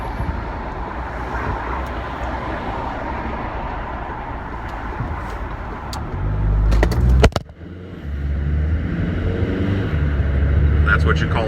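A car drives through traffic: a steady road rumble and engine drone from inside the vehicle, with a brief louder clatter and thump partway through. Someone talks over it.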